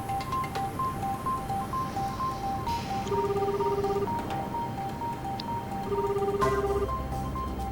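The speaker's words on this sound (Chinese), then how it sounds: "我打了电话问一下。" A telephone call rings out unanswered: a quiet repeating ringback tone pulses steadily, broken by two longer electronic beeps, with faint room background and no talk.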